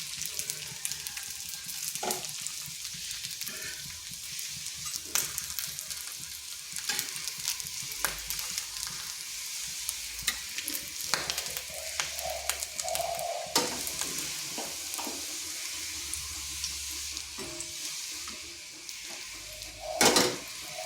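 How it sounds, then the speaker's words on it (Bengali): Stuffed pointed gourd pieces frying in oil in a pan as they are pressed down, a steady close sizzle broken by scattered utensil clinks and scrapes, with no talking. "এইভাবে একটু চেপে চেপে এগুলোকে ভেজে নিচ্ছি।"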